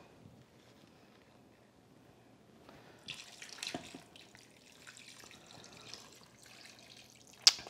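After a quiet stretch, room-temperature water for red chili soup pours and splashes into a container nearby, running unevenly for a few seconds and then trickling off.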